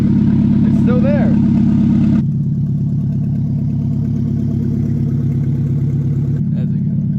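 A Nissan 300ZX with a swapped-in KA24DE engine runs at a loud, steady idle close by, its low rumble continuous throughout while voices talk over it early on.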